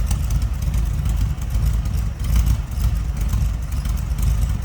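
Rear-mounted air-cooled engine of a restored 1972 Volkswagen Karmann Ghia idling steadily, a low rumbling, slightly uneven putter heard from close behind the car.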